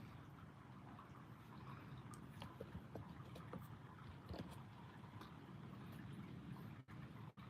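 Steady wash of running water from a fountain fills the background, a continuous broadband rush with no voices over it.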